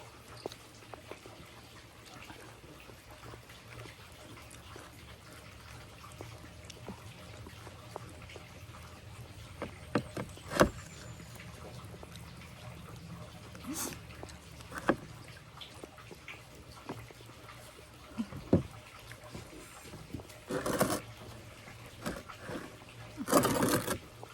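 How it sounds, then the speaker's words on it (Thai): Steady rain falling outdoors, a constant wet hiss broken by scattered sharp drips and knocks, with faint voices now and then. "ตอนเนี้ยฝนตกเปียก เออฝนตกหนักขึ้นเรื่อยๆนะคะ"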